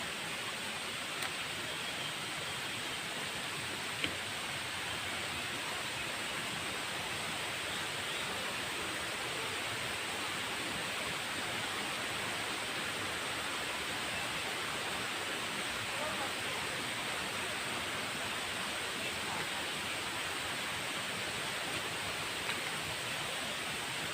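Pho Hin Dat waterfall on a mountain, with water flowing steadily down from the heights as a constant broadband rush that holds even and unbroken throughout.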